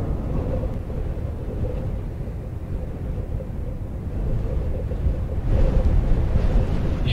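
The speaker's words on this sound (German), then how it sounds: "Ich höre Wind." Steady wind blowing through woods at the bottom of a slide, a continuous low rushing roar that swells louder near the end, with no talking.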